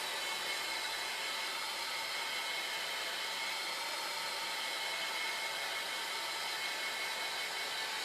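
Hair dryer blowing steadily over a wood slab sign, a continuous even whooshing roar held close and unbroken throughout.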